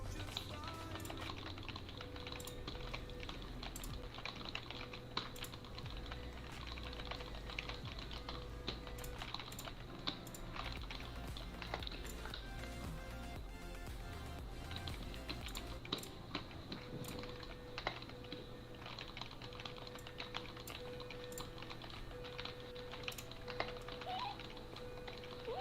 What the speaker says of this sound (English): You can probably hear my keyboard too.